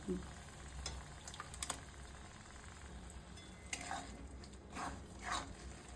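Masala with ginger, garlic, green chilli and coriander powder frying in oil for an egg and cauliflower curry, a quiet continuous sizzle broken by soft stirring scrapes, faint and steady with no speech.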